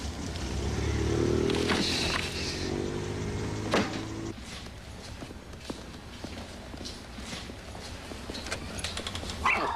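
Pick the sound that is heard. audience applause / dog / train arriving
dog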